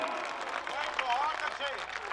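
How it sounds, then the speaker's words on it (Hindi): Audience applause at a live Hindi poetry recital (kavi sammelan), a steady wash of clapping from a crowd, with voices carrying over the top. "जरा एक बार तालियां बजाओ बढ़िया वाली"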